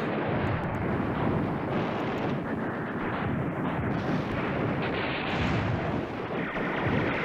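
Continuous rolling artillery bombardment from a wargame on the Beda Fomm battlefield, a dense, loud barrage of overlapping booms and rumbling blasts that never lets up, with no voices.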